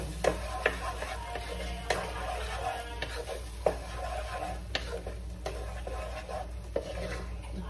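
Egg curry masala being stirred and sautéed in a pan, with a steady sizzle under repeated scraping strokes of a spoon against the pan, fairly close.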